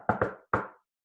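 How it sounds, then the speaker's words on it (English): Old-fashioned shave-and-a-haircut knock on a door, three sharp close raps, two quick ones and then a single one after a short pause, alone without talk. "A whisk and a shave. It's some old-fashioned door knock."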